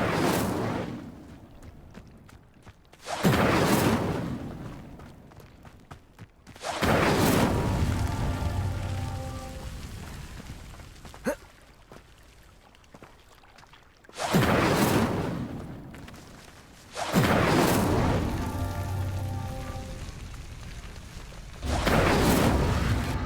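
The Incendio fire spell lights pyres in Hogwarts Legacy, loud roaring fiery whooshes bursting in repeatedly, each followed by a sustained crackling rush, with quieter gaps between the blasts.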